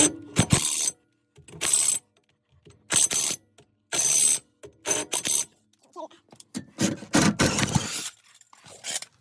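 During a repair job, a hand ratchet tightens a fastener in a series of short, rapid clicking bursts separated by brief pauses, close and clear.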